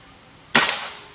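A single sharp, close crack from an Xtrabig Goblin 88 PCP air rifle, a hissing burst that fades quickly after a quiet pause.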